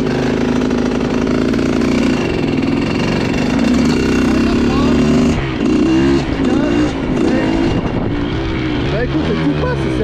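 A vehicle engine warming up at steady idle on a personal circuit, a continuous loud rumble with a harmonic drone that dips and shifts partway through, with a voice talking over it.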